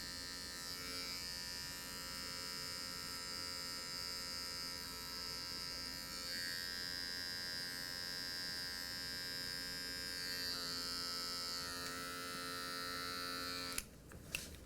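Electric hair clippers run steadily throughout a medium skin fade on short hair, a continuous buzzing motor hum, close and even, with a brief clatter near the end as the clipper is set down.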